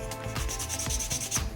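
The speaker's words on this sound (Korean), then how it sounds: "전체 단면을 사포질 해줍니다." Paper sandpaper rubbed along the beveled cut edge of a leather smart key case, several brisk back-and-forth scraping strokes in a regular rhythm, close and clear with no talk.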